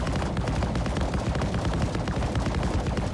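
A ship-mounted weapon in Star Citizen 4.1.1 fires in a rapid, unbroken stream of heavy thudding shots, heard from inside the cockpit, dense and rumbling with a deep low-end pounding throughout.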